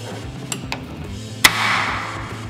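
A welding table clamp snapping shut on a metal tube in a workshop, one sharp metallic clack followed by a brief ringing tail, preceded by a couple of lighter taps, close and fairly loud.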